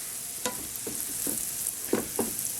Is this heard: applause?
no